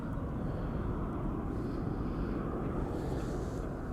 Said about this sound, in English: KLM flight 1199 737.